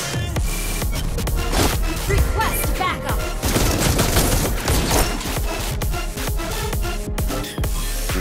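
Granger's Crescendo Bullet ultimate in the Mobile Legends video game fires as dense, continuous gunfire with booming impacts that keep going for the full span, loud and busy, with game sound effects layered together.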